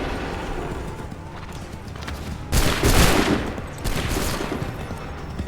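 Musket volleys crack out in Assassin's Creed 3 Remastered on Xbox One, a loud burst of massed gunfire around the middle followed by a second rattle, over battlefield ambience and hooves.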